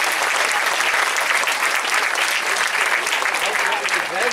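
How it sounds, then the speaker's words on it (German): Loud, steady applause from an audience at an award ceremony for a competition day, a dense wash of many hands clapping throughout without a break. "Schenken Sie einen Applaus für all die helfenden Hunde."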